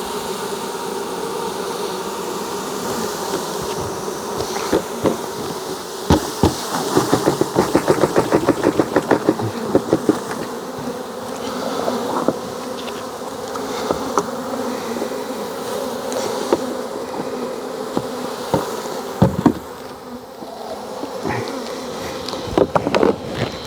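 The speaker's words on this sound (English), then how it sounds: "Let the flying bees fly." Honeybees swarm and buzz around an opened hive during a beekeeping inspection, a dense, continuous drone close to the microphone with scattered sharp clicks and knocks from hive handling, and no talking.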